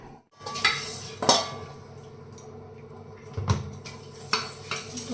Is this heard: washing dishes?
yes